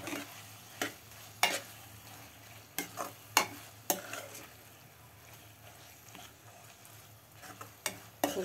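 Paneer being stirred in a pan with fried onion and tomato for dhaba-style bhurji, heard as a low sizzle under repeated sharp scraping clicks of a spoon against the pan, spaced irregularly and fairly close.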